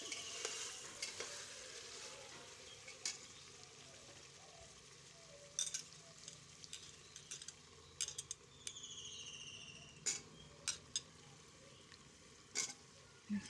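Mutton curry in a pot is stirred as cut potatoes go in, with a faint low simmer and sizzle broken by sharp spoon clinks and scrapes, in a quiet room with a cricket-like chirp in the background.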